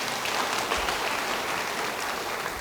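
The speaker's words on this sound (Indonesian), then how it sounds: "Yang setuju beri tepuk tangan bagi dia." A church congregation claps during a sermon, a steady dense wash of applause that fills the whole moment without pause and carries no voices.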